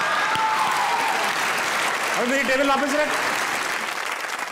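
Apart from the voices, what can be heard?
studio audience applause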